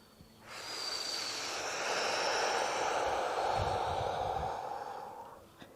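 A long, steady exhale during a Pilates breathing exercise, breath hissing through the mouth for about five seconds, close and soft, rising gently then tapering off.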